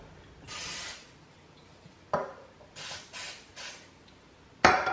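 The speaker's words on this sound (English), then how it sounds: "we have like vegetable spray, and you will want to spray your hands" Several short hissing bursts from an aerosol can of vegetable cooking spray, close by, separated by pauses and a couple of clunks, sprayed onto hands while making pumpkin gooey bars.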